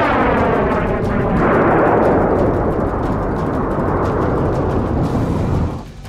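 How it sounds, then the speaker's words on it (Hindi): A powerful blast from an Iranian missile test roars loud and sustained, a deep rumbling boom that fills several seconds before dropping away at the end, with no voices. "ईरान ने जोरदार बारूदी धमाका करके दोस्त और दुश्मन सभी को अपनी ताकत का सबूत दे दिया।"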